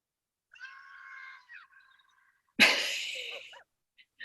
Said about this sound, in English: It's the marmot screaming.